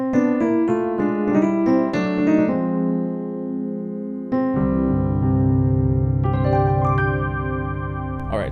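Piano chords ring out, a few struck in quick succession and then held, followed by deeper sustained chords that swell and fade, with no voices.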